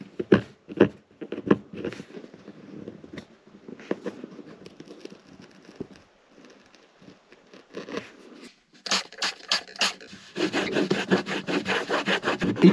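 A fingernail scrapes dried glue off a glasses holder inside an old Zhiguli car, producing close, uneven rasping strokes that speed into rapid rhythmic scratching toward the end.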